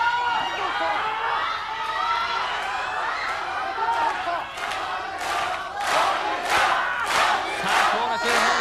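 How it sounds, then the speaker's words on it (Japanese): Wrestling crowd at an All Japan Women's tag league final cheers and chants for Hokuto, a dense roar of many voices with rising shouts and rhythmic bursts toward the end, under a commentator's talk. "場内からは悲鳴とも取れるね、北斗への声援聞こえてくるわけですけれども"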